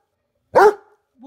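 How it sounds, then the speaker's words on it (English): A single sharp dog bark, close and loud, followed by a brief quieter tail and a faint sound starting at the end. "What are you barking at?"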